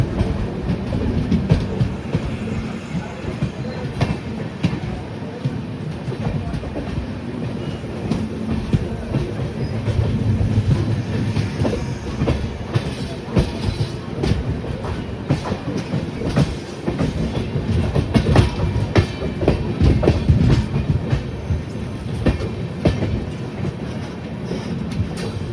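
A train runs on the tracks with a continuous rumbling roar and rhythmic clickety-clack of wheels on rail joints, steady and close throughout, with no talk.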